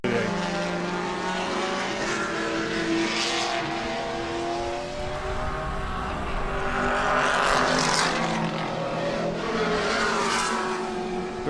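A Datsun 240Z race car and other cars roar steadily around a racetrack at a vintage race event, engines loud and continuous, rising as cars pass close by.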